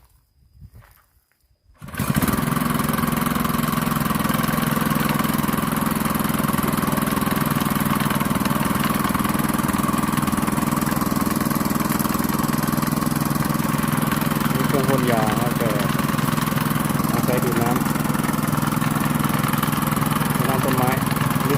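An engine-driven water pump starts up and runs at a steady drone, drawing water from a borewell in a Thai orchard, loud and close for the whole stretch.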